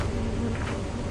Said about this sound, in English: Get away from me, bees.